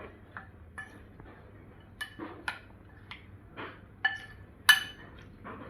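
A spoon clinks sharply against a container while chili powder and asafoetida are mixed into homemade pickle, a sparse series of light taps and scrapes, close and fairly quiet.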